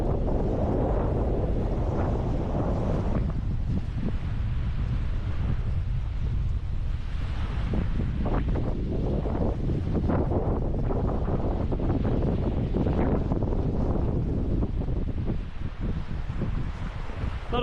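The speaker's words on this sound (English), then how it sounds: "Obviously the wind's up a bit today" Strong coastal wind at Airlie Beach in the Whitsundays, Queensland, roars steadily across the microphone near an ocean pool, with gusty buffeting and surf noise beneath, and no talk.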